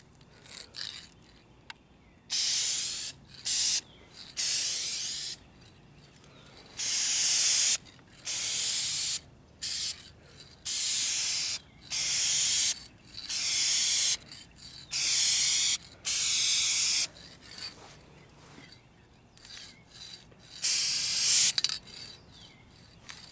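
Duplicolor spray paint hisses from an aerosol can in about a dozen short, regular bursts as a second coat goes onto a 2004 Kia Spectra rear bumper, each blast loud and close with quiet gaps between.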